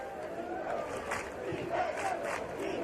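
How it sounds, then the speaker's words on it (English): Cornell football crowd at a 1996 home game against Princeton chanting "defense" in rhythmic, rising waves of massed voices, steady and loud throughout with no commentary over it. "Cornell crowd with a chant of defense."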